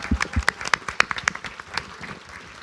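Scattered clapping from an audience after a vocal group from a volunteer fire brigade performs, a few loud individual claps standing out over thinner applause that fades away within a couple of seconds.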